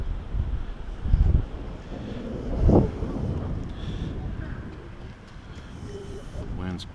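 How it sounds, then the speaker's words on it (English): Wind gusting through a river gorge on a hiking trail near a footbridge, buffeting a camera microphone as a steady low rumble with a couple of stronger bursts, continuous and fairly loud throughout. "You can probably hear the wind noise on the camera."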